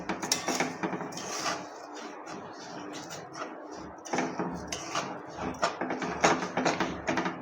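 Sugar caramelizing with grated green coconut in a pan over a low flame is stirred with a utensil, giving irregular close scrapes and clinks against the metal, busy at first, a quieter stretch, then more vigorous scraping.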